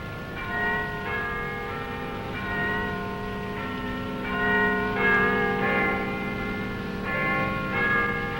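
A church bell strikes the hour, sounding as sustained ringing tones with overlapping harmonics that repeat steadily at moderate volume.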